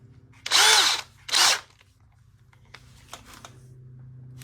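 Two short whirring bursts of a power drill, then quiet handling clicks and a faint background hum.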